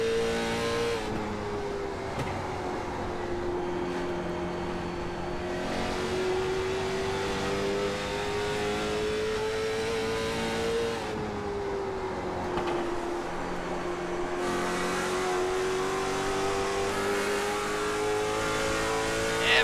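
Late model stock race cars from the I-85 Late Model Stock Series at North Wilkesboro Speedway, one engine roaring loud and close in a continuous drone whose pitch sags through the corners and climbs again on the straights.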